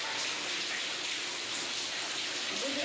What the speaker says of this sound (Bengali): আকাশ ফর্সা, বৃষ্টি হইতেছে।